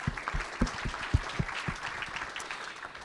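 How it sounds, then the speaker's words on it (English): Luncheon audience at a chamber of commerce infrastructure event applauding a water utility leader, a fairly faint, brief patter of claps that thins out after a couple of seconds. "Let's hear a round of applause for Robert."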